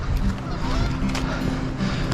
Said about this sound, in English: look at all those geese. Whole flock of them.